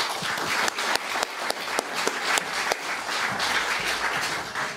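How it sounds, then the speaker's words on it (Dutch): Audience applause for a guest speaker at a Limburg literature event, a moderate crowd clapping steadily throughout, with sharper individual claps standing out near the microphone and faint murmuring underneath. "Mag ik een warm applaus voor Liliane Ploemen?"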